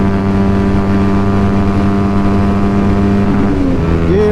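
Yamaha WR155 motorcycle accelerating in third gear on a night ride, a loud, steady engine drone held close with a rising, tightening pitch near the end as the throttle opens.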